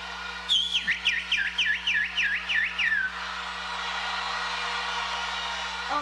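A person whistles in imitation of a little bird, a rapid run of rising-and-falling warbling notes for about three seconds, close and clear over a steady background hum, then trailing off into crowd noise.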